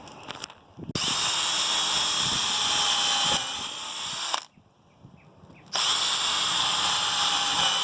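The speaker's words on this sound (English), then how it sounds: "we're going to go ahead and drill those pilot holes" A power drill whirs loudly in two long bursts while drilling pilot holes, with a short pause between them, each spinning at a steady high pitch close by.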